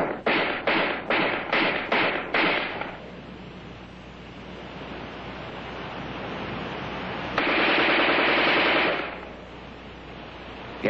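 Armalite AR-10 rifle fired offhand at a man-sized target, a rapid string of about eight sharp shots in quick succession, then a pause before a short dense burst of automatic fire, with no talk.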